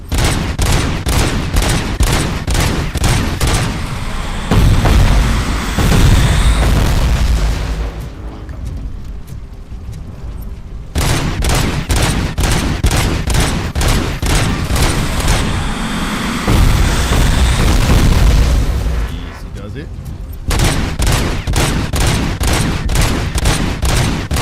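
Dense gunfire from the video game RoboCop on PS5: rapid, loud bursts of repeated shots that pause briefly around 8 and 20 seconds and then resume.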